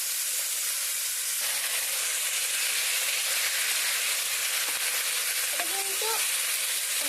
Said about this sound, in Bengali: আমি সামান্য একটু ভেজে নেবো